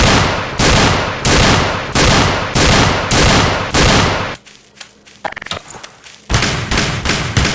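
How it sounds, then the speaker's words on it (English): Shotgun in the Garry's Mod video game firing a rapid run of loud, evenly spaced booming blasts, then a short quieter stretch of clicks and mechanical handling before the shots resume. "This is one of my favorite shotguns. This one will take care of enemies pretty easily."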